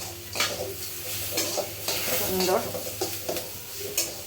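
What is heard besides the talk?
frying and stirring potatoes for chire polao in a pan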